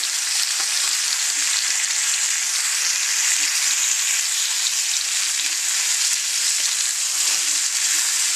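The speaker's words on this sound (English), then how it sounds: "once it gets warm, you can use the sides for searing, like I'm doing now" A chuck roast sears against the hot sides of an iron skillet, giving a loud, steady sizzle and crackle that holds without pause throughout, with no voices.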